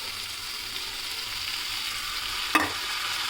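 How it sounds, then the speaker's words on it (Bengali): Soaked mung dal fries in a pan with a steady, even sizzle, and one sharp scrape or clink of a utensil rings out near the end. "মুগ ডালটা দিয়ে প্রথমে কষিয়ে নেব"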